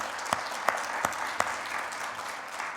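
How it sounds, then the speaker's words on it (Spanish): A church congregation applauding during a Spanish-language Christian sermon: a few sharp distinct claps spaced through the first half, then a steady soft murmur of hall ambience, moderately faint. "Dale un aplauso al Señor."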